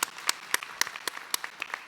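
A church congregation claps in a steady, even rhythm of about seven sharp, moderately loud claps during an Easter service, with no voices over it.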